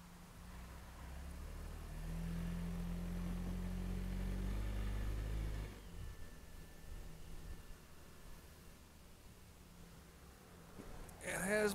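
A motorcycle ridden on a freshly fitted rear tire, its engine a loud, low, steady rumble for the first six seconds before dropping to a quieter drone.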